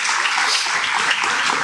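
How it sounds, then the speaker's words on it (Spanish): An audience at a national forum on cooperatives breaks into sustained applause, with dense, even clapping from many hands filling the short stretch at close range. "Un aplauso a la memoria de nuestro general Sandino."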